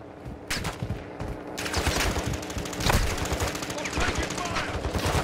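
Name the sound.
gunfire in a military video game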